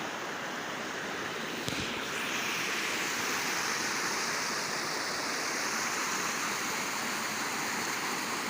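A loud, steady rush of water overflowing a check dam, continuous broadband roar without pause, close by.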